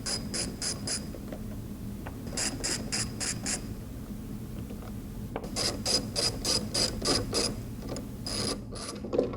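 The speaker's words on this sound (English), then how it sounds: "we're going to take the panel off the back just using a socket wrench" A socket wrench ratcheting out the screws on the back panel behind a Ram 1500 headlight, crisp close clicking in rapid bursts of four or five with short pauses between.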